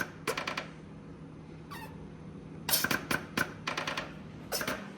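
Boost controller solenoids on a turbocharged 2014 COPO Camaro click in quick bursts of sharp, close ticks, several clustered runs with short pauses between them, with no talk over them.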